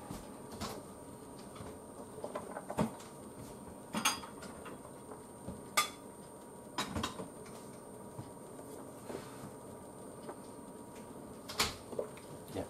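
Scattered light clinks and clatters of plates being handled in a kitchen while pasta cooks, a few sharper knocks among soft rustling, fairly close and moderately quiet.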